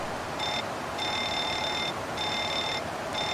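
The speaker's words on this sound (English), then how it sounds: "But at least the fire alarm works." Fire alarm bell in a Boeing 737 cockpit in a flight simulator game, sounding as a steady high electronic ringing tone in repeated bursts of roughly a second over a constant background hum.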